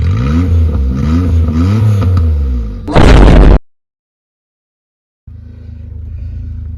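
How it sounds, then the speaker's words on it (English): A Suzuki Wagon R with a straight-pipe Apexi exhaust and no resonator revs hard with rising and falling engine notes, then fires a sharp loud crackling burst of pops and bangs before a short silence and a low idle rumble. "It has no resonator, so that's why it's popping and banging."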